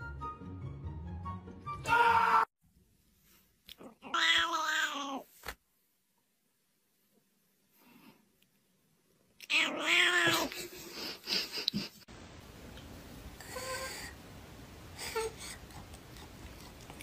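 A cat on catnip lets out several drawn-out meows and yowling caterwauls in separate bursts, loud and close, broken by quiet pauses, with no talk.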